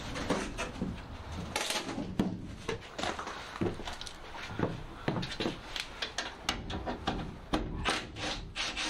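A piece of wood is pried and worked off the interior of a Ford Transit MK7 van during a camper conversion. Continuous rubbing, scraping and knocking carry irregular sharper thumps, close and busy, with no talking.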